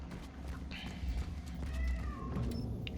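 A cat meows from behind a locked apartment door in the survival horror game Cronos: The New Dawn, a couple of short, fairly faint mews over low ambient rumble and soft footsteps.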